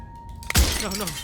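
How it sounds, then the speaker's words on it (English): A sudden glass shatter in the game Slay The Princess bursts in loud and close after a faint tone, trailing into scattered tinkling debris, with a voice overlapping the tail. "But his pleas disappear at the sound of breaking glass."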